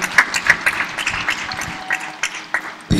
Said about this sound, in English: A very big round of applause to her